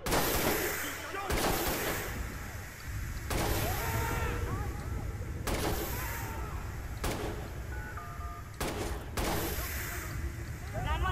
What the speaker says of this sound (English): There's a crazy man shooting up the city.